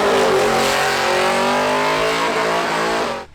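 A car performs a burnout in the Burnout Masters at Summernats, its engine held at a loud, sustained high rev with harmonics sliding in pitch for about three seconds before cutting off abruptly.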